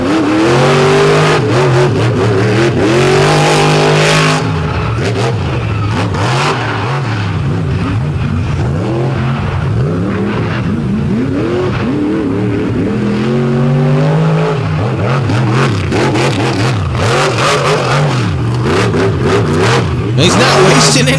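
A monster truck roars and revs hard through a freestyle run at a Chattanooga arena show, engine surging and dropping loudly over several bursts while an announcer talks over it.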